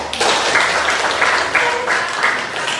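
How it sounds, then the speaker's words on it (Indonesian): An audience applauding after an activity, a dense burst of clapping that swells in waves and continues for a few seconds. "Oke, aplaus untuk kita."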